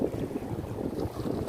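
Strong wind buffets the microphone at a natural seaside fishing pond in Samut Sakhon, a continuous low rumbling roar with gusty surges and no voices.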